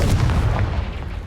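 A Confringo fire spell bursts in Hogwarts Legacy, a short heavy boom with a rumbling low tail that fades quickly, loud and alone.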